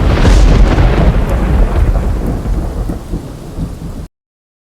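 Heavy monsoon rain pours steadily during a red-alert downpour in Gujarat, with rolling thunder rumbling loudly at the start and the roar of rain continuing alone, fading slightly before stopping abruptly.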